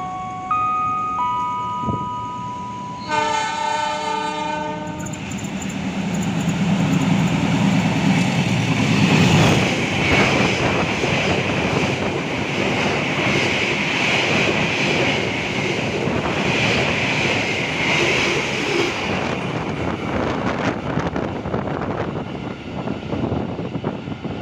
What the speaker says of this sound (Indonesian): Terlintas langsung kereta api Argo Bromo Anggrek.